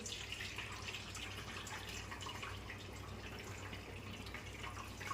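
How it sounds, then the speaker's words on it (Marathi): Cold water is poured over boiled noodles in a strainer, making a steady, continuous splashing and trickling wash that runs evenly throughout at a moderate level. "आता त्याची आपण लगेच गार पाणी टाकून घेऊ जी म्हणजे नूडल्स आपल्याची टाकणार नाही"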